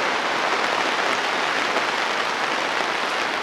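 Heavy British rain pours down steadily in a dense, even hiss that stays constant and close, with no voices.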